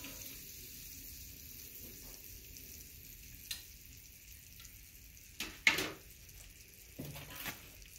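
Butter frying in a pan while hotdogs cook, a steady hiss with occasional louder scraping and stirring bursts, close up and without talk.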